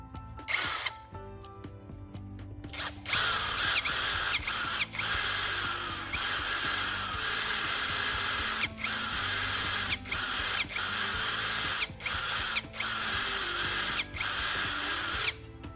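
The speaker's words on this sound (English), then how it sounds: "I plan to secure the eye screw to the charger casing by drilling a small hole just large enough to hold it in place." A drill bores a small hole into a plastic phone charger casing, a steady close whir running continuously with brief pauses and stops.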